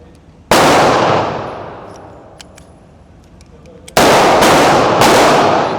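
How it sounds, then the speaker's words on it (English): Pistol shots from a Smith & Wesson M&P 2.0 Pro Series in .40 S&W fitted with a Freedom Finger forced-reset trigger at an indoor shooting range: one loud sharp report that rings out slowly, then a quick burst of three shots, all very close. "I'm shooting the Freedom FRT"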